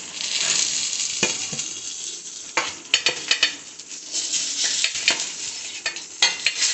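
Fish frying in a pan gives a steady, loud sizzle with occasional stirring clinks and scrapes, and no talking.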